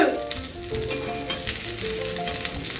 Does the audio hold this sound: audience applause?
no